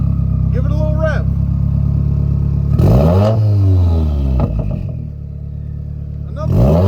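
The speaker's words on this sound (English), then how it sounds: "Give it a little rev." A Subaru WRX with an aftermarket exhaust revs loudly close by, its engine rising and falling in several throttle blips over a steady idle, while people talk.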